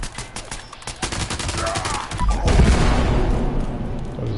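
Rapid automatic gunfire from the video game Fallout 76, a dense burst of shots fired at a super mutant, loud and close, with a heavier boom-like impact partway through and continued rattling fire.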